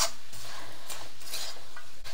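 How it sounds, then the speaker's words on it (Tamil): Fish pieces being stirred in a pan with spices for fish pickle, making a soft scraping, sizzling stir of a spoon against the pan, close and steady, with no talk. "ஒரு கலக்கு"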